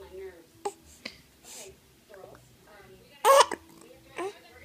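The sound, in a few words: hiccups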